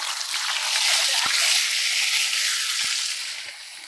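Fresh fish frying in hot oil in a pan over charcoal or wood fire, a loud close hissing sizzle that swells and then slowly fades, with a couple of soft knocks.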